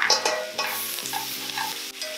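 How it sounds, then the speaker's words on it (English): Tomato paste is stirred into vegetables frying in a pan, with a steady sizzle and short scraping strokes of the spoon over about two seconds, layered above a low, steady tonal hum. "we're going to take our tomato paste, just a little bit, maybe a tablespoon or so, and we're just going to mix it into our vegetables"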